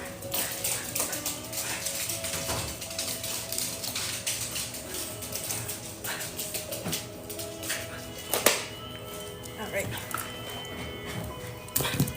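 Dogs let out of a room, barking and whimpering excitedly close by amid clattering movement, with someone talking over much of it.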